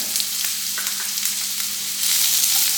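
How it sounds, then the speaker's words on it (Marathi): Thinly sliced carrots with a little turmeric sauté over a medium flame, giving a loud continuous sizzle with occasional stirring scrapes, the hiss growing brighter and louder in the last second. "आणि आता मीडियम फ्लेमवर हे परतून घेऊया"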